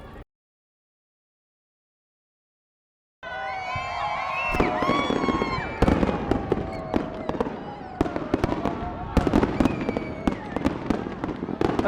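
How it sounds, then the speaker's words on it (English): Nearby fireworks display at night: after a brief silence, a continuous barrage of loud, sharp bursts and crackles with whistling rockets, crowd cheering and shouting mixed in throughout. "the fireworks are a lot closer this year"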